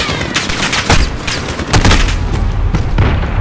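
A grenade blast and heavy gunfire in the Call of Duty Modern Warfare campaign, loud and dense, with rapid overlapping shots and booms filling the whole stretch.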